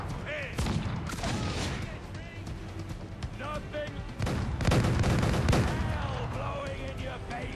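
Ship cannons boom in repeated volleys during a naval battle in Assassin's Creed IV Black Flag, loud and dense with overlapping blasts and crackling game effects, while a voice shouts over the barrage.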